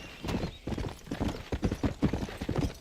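Horse hooves clopping in a video game, a quick uneven run of muffled hoofbeats close by that carries on through the whole moment.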